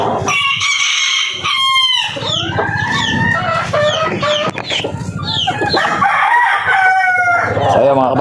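Chickens cluck and a rooster crows loudly and close by, with repeated calls overlapping in a busy backyard flock and faint voices in the background.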